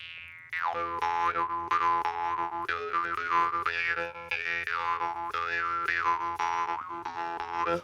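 A jaw harp twangs continuously with a droning buzz and shifting, wah-like overtones, played alone and close.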